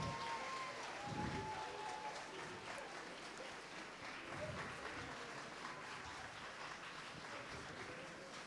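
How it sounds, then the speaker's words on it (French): A crowd applauds after a cosplay contest at a convention, a dense, fairly distant, even clatter of clapping that carries on throughout, with faint voices mixed in. "Tous les applaudissements."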